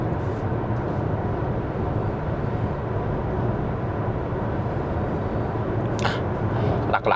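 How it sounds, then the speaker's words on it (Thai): Dunlop SP Sport Maxx tyres roll on a Deepal S07 at 110 km/h, giving a steady broadband road roar inside the cabin, loud and unbroken, with a couple of faint ticks near the end. "เนี่ยคุณจะได้ยินเสียงก็คือเสียงยางอะนะคือ"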